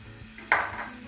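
Butter drops into a hot pan for a cabbage and egg omelette, a sudden close burst of sizzling that flares up, then slowly settles into a softer fry.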